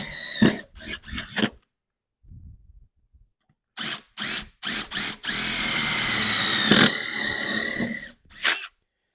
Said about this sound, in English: I'm just going to use a spade bit, my handy drill, and we'll poke a couple holes